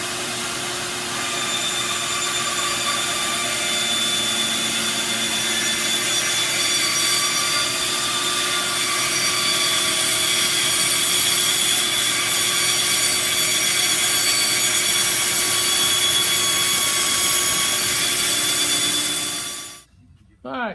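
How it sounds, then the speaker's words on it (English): A bandsaw with a dull blade grinds and rubs against a piece of spalted wood, a steady loud machine drone with a rasping texture that runs for about twenty seconds, then cuts off abruptly. "My bandsaw blade is so dull I couldn't even cut this."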